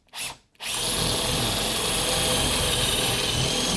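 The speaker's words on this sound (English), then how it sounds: "I'm going to do all of my work today with this cordless drill." An 18-volt Bosch cordless drill boring into wood with a flat bit: a short whir, a brief pause, then a loud sustained grinding drone close by as the bit cuts fast.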